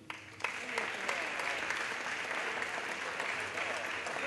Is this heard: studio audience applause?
yes